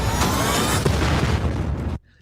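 Explosions from a Black Panther movie trailer, a loud, sustained, dense booming roar that rumbles for about two seconds before cutting off abruptly into near silence.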